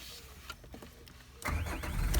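A Peugeot 106 petrol engine cranks briefly and catches, settling into a steady close idle after a short whirring start, with no voices.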